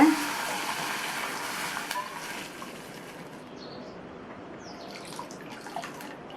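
Water is poured into a pan for semiya upma, about 1.25 cups. It begins as a strong splashing rush that quickly fades to a quiet trickle and low background over several seconds.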